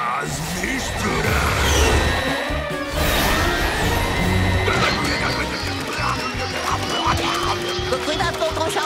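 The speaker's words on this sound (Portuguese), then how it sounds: "É muito para misturar, mas esta batedeira ajuda. Taz, mistura!" Cartoon Tasmanian Devil Taz whips up birthday cake batter with a mixer in a frantic, continuous loud jumble of whirring, crashes, squeals and wild vocal noises, with voices talking throughout.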